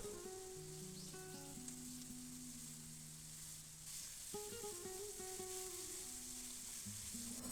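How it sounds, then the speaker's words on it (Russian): Mushrooms fry with onion and carrot in a pan, a continuous close sizzle with faint stirring and soft tonal music running underneath. "Грибы немного обжарились с луком и морковкой."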